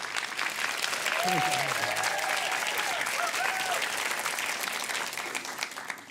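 A crowd at a Strictly Come Surrey dance show breaks into sustained applause after a performance. Many hands clap together in a thick, even wash, with cheering voices rising through it before the clapping gradually thins toward the end.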